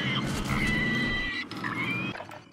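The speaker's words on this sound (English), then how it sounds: "Dude, I just heard, like, pig noises." Pig noises in the video game Warzone: a few high, squealing grunts rise and fall against game background noise.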